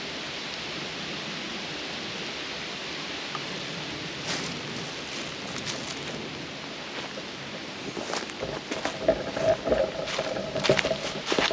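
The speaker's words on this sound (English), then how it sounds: "we're getting a little bit of rain, but I'm pretty much under the canopy. It's just sprinkling." Light rain sprinkles steadily onto a forest tree canopy overhead, a soft continuous hiss with scattered drips growing denser and louder toward the end.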